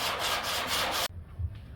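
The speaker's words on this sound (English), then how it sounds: "here's the first dent all sanded out with the 80 grit" Rapid back-and-forth scrubbing of 80-grit sandpaper on a rubber pad over a dented car hood, a loud raspy burst lasting about a second before stopping abruptly, followed by faint handling noise.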